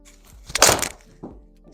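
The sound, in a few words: TaylorMade P790 iron striking a golf ball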